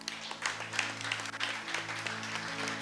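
A church congregation claps and cheers in praise, a dense burst of applause over sustained musical tones that carries through the full few seconds.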